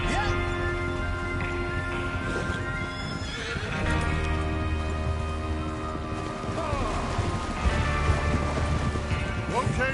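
Video game horses whinny and neigh while hooves clip-clop steadily, with light rain-like ambience and occasional voices mixed underneath.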